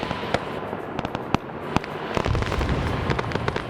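A white phosphorus grenade bursts during a convoy operation in the Vietnam War video game Arma SOG Prairie Fire, set among a rapid string of sharp crackling pops and distant blasts over a steady rumble.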